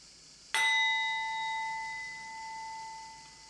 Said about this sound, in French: Premier gong.